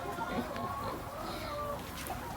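A laying hen on a backyard egg farm clucks a few times, faint and somewhat distant, mixed with other fowl and a person talking nearby.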